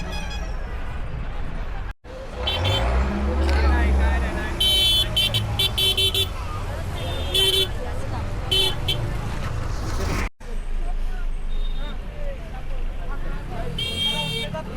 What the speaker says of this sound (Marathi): बघू शकता ट्रॅफिक, गाडी लावायला जागा नाही.